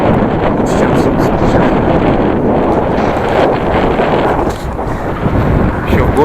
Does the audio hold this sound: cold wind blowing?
yes